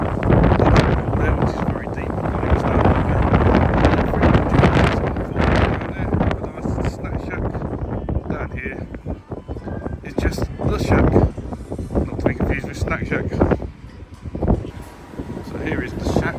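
Strong wind buffets the microphone on an open cruise ship deck of the TUI Marella Explorer, gusting in loud rumbling bursts, while a person talks intermittently over it.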